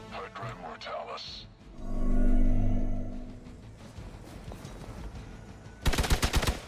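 Gunfire from the video game Marvel's Midnight Suns, with a loud low rumble near the start and a quick rattling burst of shots at the end, over game sounds.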